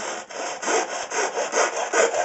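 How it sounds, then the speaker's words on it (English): A Japanese pull saw cuts into a wooden cigar box guitar neck with about eight even, rhythmic rasping strokes, close and clear with no talk. "the fastest, easiest way is if you've got like one of these little Japanese pull saws"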